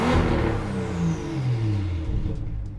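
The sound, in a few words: BMW 535i engine revving after tune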